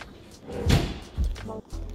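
Kitchen drawers in an empty apartment slide and thump shut, two or three close, solid knocks in quick succession.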